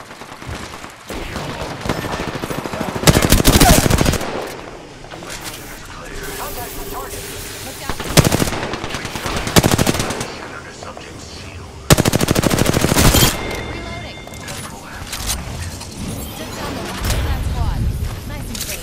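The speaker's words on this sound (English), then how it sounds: "I am taking fire, friends." Bursts of rapid automatic gunfire in the battle royale game Apex Legends, loud and repeated in several long volleys over constant game noise.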